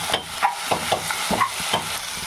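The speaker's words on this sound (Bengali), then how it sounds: "এই কপিটা কড়াইয়ের মধ্যে ছেড়ে দেবো।" Kohlrabi fries in hot oil in a wok, with sizzling under a run of sharp clattering knocks from the pieces and utensil, about eight distinct hits in quick succession.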